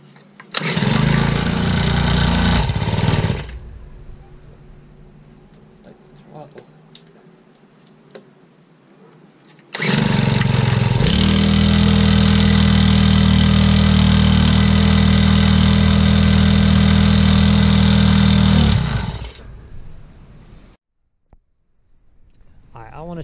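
A Honda GX22 brushcutter engine runs loud and close in two throttle bursts: a short roar at the start, then a longer sustained high rev. It drops to a quiet idle between them and cuts off near the end.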